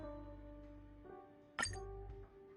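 Glass clinks once, crisp and bright, while a drink is mixed in a vintage glass in Honkai Star Rail, heard over quiet background music.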